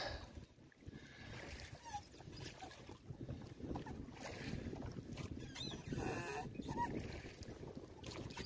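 A small boat motors across a lake, its steady engine drone mixed with wind buffeting and water wash that rise and fall, with no one speaking.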